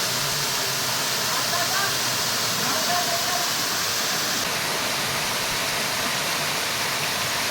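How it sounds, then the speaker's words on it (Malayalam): Steady broadband rush of a waterfall pouring over rocks in Kerala, continuous and fairly loud throughout with no pauses. "ആ പാറയുടെ മുകളിൽ നിന്ന് വരുന്ന വെള്ളം ഒന്നുകൂടെ കാണിച്ചു കൊടുത്തേടാ."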